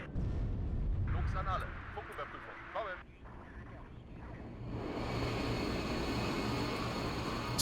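A-10 rocket runs in the war game WARNO come through as a rumbling wash of explosions and jet noise. A voice talks over the first half, and the roar swells louder and denser toward the end.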